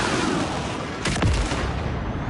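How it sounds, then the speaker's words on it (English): Spaceship blasters during a Star Wars Outlaws space battle, a loud continuous roar of engines broken by a sharp laser-like zap and booming shot near the middle. "They're shooting at us"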